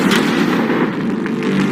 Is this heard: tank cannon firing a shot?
yes